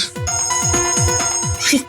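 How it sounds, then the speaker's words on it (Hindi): A mobile phone ringtone plays loudly and close by in a crime drama scene set in the Mumbai rain, with a bright repeating melodic pattern in quick, regular pulses and some voice sounds mixed in. "आप तो मोबाइल की रिंगटोन निकाल रहे हैं।"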